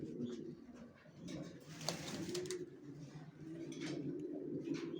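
Racer pigeons coo in a low, continuous murmur that layers several overlapping birds, fairly close and steady, with occasional faint chirps above it.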